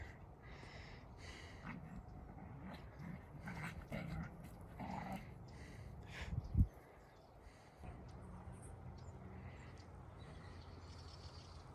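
Dogs roam among the ancient ruins of Xanthos, panting and making small vocal sounds over outdoor ambience, with a sharp thump midway and faint birds calling in the distance.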